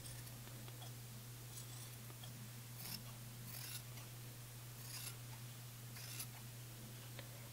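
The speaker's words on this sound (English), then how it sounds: "I'm just going to cut that so that's slightly longer again" Sharp scissors snipping through stacked fabric layers while trimming a bra piece, a few quiet crisp cuts spaced apart over a steady low hum.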